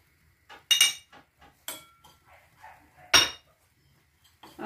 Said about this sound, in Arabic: غادي ناخذ التوابل نخلطها.